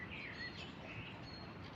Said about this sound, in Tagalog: Tingnan mo naman yung mga huni ng ibon